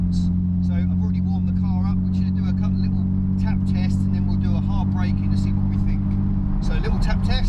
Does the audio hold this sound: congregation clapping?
no